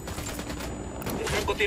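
Rapid automatic gunfire in the video game Tom Clancy's Ghost Recon Wildlands, bursts of shots crackling over a busy game soundscape that grows louder toward the end, with a voice talking over it.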